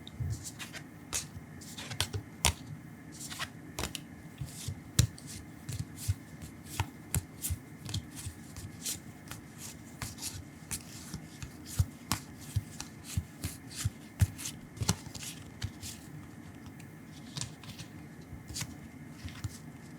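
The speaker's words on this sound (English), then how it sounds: "It's a card game that is pretty fun. And I thought it would make for some good card sounds." Munchkin Loot Letter game cards shuffled and handled up close, a stream of crisp flicks, snaps and riffles in irregular bursts, quiet and alone in a still room.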